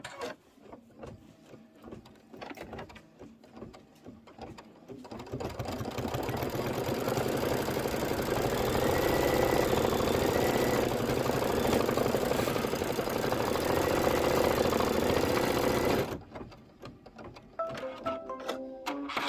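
An embroidery machine stitches a tack-down on a quilt block, a steady fast mechanical whir and rapid needle clatter running for about eleven seconds, with quieter machine sounds before and after.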